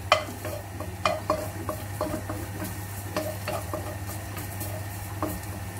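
Ginger is stirred into hot oil in a fish soup pot, with a constant low sizzle and a handful of scraping, tapping spoon strokes, close and fairly quiet with no speech.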